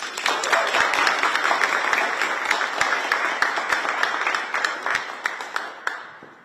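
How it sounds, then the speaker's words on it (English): An audience applauds Mayor Brandon Scott at an AFRAM announcement event, a dense, steady wash of many hands clapping that holds at full strength for about five seconds, then thins and fades out near the end. "Can you please give a round of applause for our mayor, Mayor Brandon Scott."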